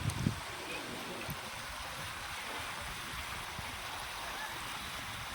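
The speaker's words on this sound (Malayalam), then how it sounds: "വലിയ ഒരു പാറക്കെട്ടിൻ്റെ ഇടയിലുള്ള ഒരു പാത്തിയിലൂടെ ജലം ഒഴുകിപ്പോകുന്ന രീതിയിലാണ്" The Kalpathy River rushes steadily through a channel between large rocks in a constant broadband wash, with a couple of brief knocks near the start.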